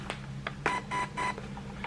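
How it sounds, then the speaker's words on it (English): A Gate Titan MOSFET in a Krytac LVOA airsoft rifle beeps as a LiPo battery is connected: a few short electronic tones, then three longer, evenly spaced beeps, close and moderately quiet. "some beeps showing that it's registering that's a battery"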